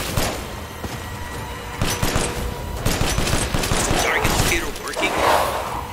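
Gunfire during the Mother Miranda boss fight in Resident Evil Village, with repeated sharp shots and thuds over a busy, loud combat din; a voice talks at times.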